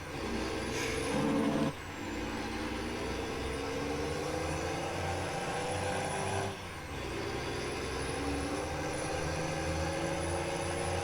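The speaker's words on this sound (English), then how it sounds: "I do like the sound of this truck though." Truck engine in a video game drones steadily with a heavy low rumble, broken by two sharp air brake hisses, one near the start and another around the middle, with no talking.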